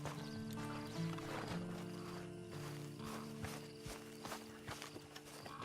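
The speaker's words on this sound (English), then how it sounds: "And you better get on this horse" A horse in the game Red Dead Online walks with soft clip-clopping hooves at a slow, uneven pace, mixed with faint outdoor ambience and no speech.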